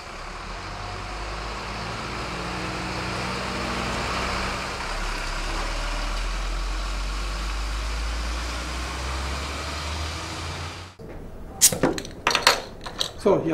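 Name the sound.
forklifts loading beer pallets onto trucks at a brewery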